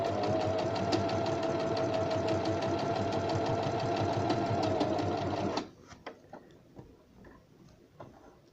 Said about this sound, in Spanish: La máquina va, el pie va doblando la tela y va haciendo el ruedo